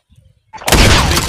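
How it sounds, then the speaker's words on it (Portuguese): After a brief quiet patch, a loud burst of Call of Duty: Mobile gunfire erupts, sharp overlapping shots filling the sound abruptly. "Acertou os três tiros, né?"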